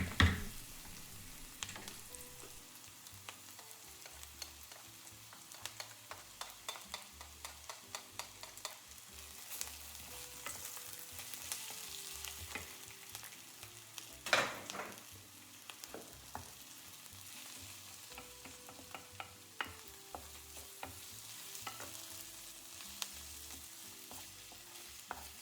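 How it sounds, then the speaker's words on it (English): Onions fry gently in oil in a pan, a soft steady sizzle broken by frequent light stirring scrapes and clicks, close but quiet, with no voices. "Now you can fry your onions for about 4 or 5 minutes till they soften, till the oil starts to flow"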